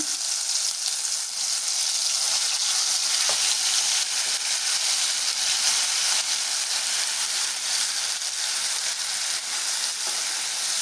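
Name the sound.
ground masala frying in hot oil in a kadai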